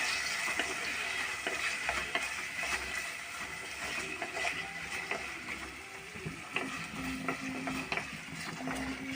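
Green chillies frying in a pan for a prawn and drumstick curry give a crackling, spattering sizzle with repeated clicks and scraping stirs, sustained and fairly close.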